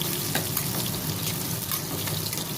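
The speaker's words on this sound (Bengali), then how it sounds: "সরষের তেল দেওয়ার পরে পেঁয়াজগুলো দিয়ে দিলাম, পেঁয়াজ কুচি দিয়ে দিয়েছি" Chopped onions frying in mustard oil in a pan for a Bengali cabbage dish with fish head, giving a steady, dense sizzle with faint stirring scrapes throughout, close and continuous with no talking.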